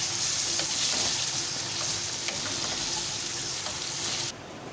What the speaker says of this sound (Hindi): पहले लहसुन का पानी खुश्क होगा और उसके बाद हल्की हल्की फ्राई होगी